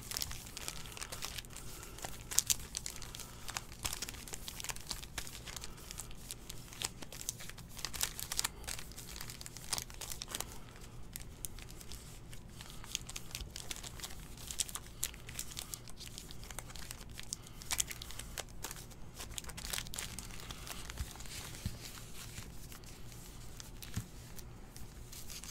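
Wrapped packs of 2019-20 Chronicles basketball cards crinkle and rustle as they are shuffled by hand, giving a continuous, faint, close-up stream of plastic crackles.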